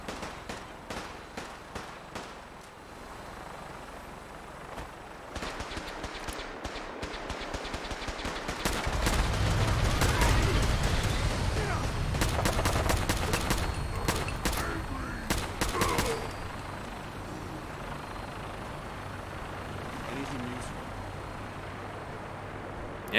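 Video game gunfire crackles in rapid bursts: sharp automatic volleys come in clusters, with a louder, denser stretch of shooting mid-way before settling back to scattered shots.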